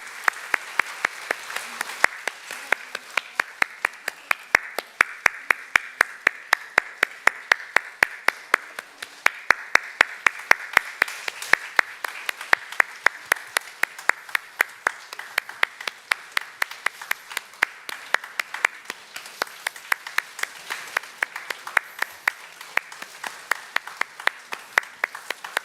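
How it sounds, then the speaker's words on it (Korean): A Korean church congregation at Sunday service claps steadily for about twenty-five seconds, crisp individual hand claps forming a fairly faint, even rhythm with little talk. "우리 박수 한번 쳐주세요"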